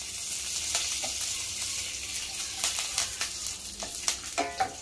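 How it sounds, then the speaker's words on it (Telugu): Chana dal and curry leaves sizzle steadily in hot oil for a thotakoora (amaranth leaf) fry, with occasional scraping stirs of a spoon in the pan, up close and without talk. "ఇది కొంచెం బాగా ఫ్రై కావాలండి, కొంచెం గోల్డెన్ కలర్ వచ్చేదాకా"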